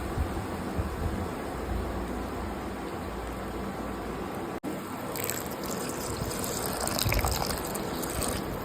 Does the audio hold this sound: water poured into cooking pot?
yes